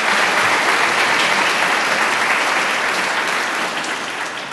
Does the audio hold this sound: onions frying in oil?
no